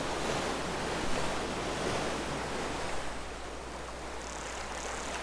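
Ocean surf washes continuously onto a beach beside a cement slab campsite, a steady broad roar with some wind, heard alone and close.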